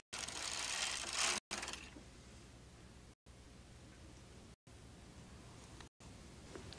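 Carriage of a Bond Elite knitting machine sliding across the needle bed: a loud broadband swish for the first second and a half, followed by quieter steady mechanical rustling with brief gaps, no voices.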